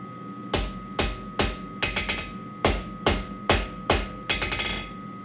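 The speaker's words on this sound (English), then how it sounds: "Now I'll take it to the anvil," Hot steel bar, drawn down to 3/8 inch, hammered on an anvil for straightening: about eight sharp ringing blows in uneven pairs and singles, close and loud, with a steady faint tone in the background.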